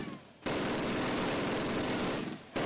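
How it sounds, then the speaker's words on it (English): Machine gun fire in a Call of Duty video game, a dense continuous burst of roughly two seconds that starts and stops abruptly, loud and steady, with faint background sound before and after. "Sergeant, fire up those machine guns."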